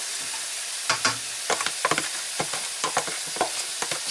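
Sliced leek whites being stir-fried for spiced vegetable fried rice: a steady pan sizzle broken by a dozen or so sharp scraping stirs and tosses in an uneven rhythm, close and moderately loud with no talking.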